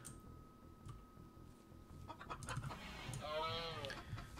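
Chickens cluck in the video game RimWorld, a few soft clucks and a short rising call near the end, faint over a low rumbling game background with no talk.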